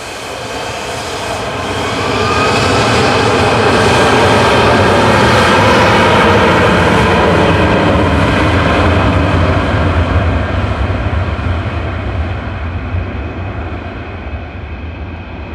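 A jet airliner takes off at Manchester Airport with a loud, sustained roar. It swells over the first few seconds, holds steady, then slowly fades, with no talk over it.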